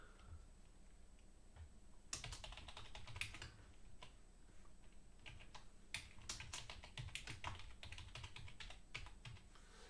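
Typing on a computer keyboard to enter trading card details, a steady run of quick, light key clicks with occasional louder strokes, close and alone with no talking.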